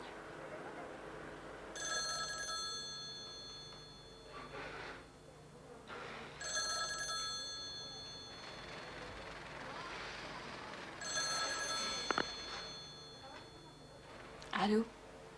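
A telephone rings in three separate bursts of electronic trilling, each about two seconds long with pauses between, in a quiet room with a receiver clatter at the end.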